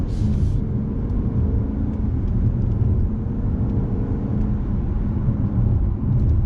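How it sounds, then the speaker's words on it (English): A 2021 Maserati Quattroporte Trofeo accelerating onto a main road in the Hamptons, heard from the cabin as a loud, steady low engine rumble and road roar that holds throughout, with no talking. "now I am accelerating onto one of the main roads here in the Hamptons"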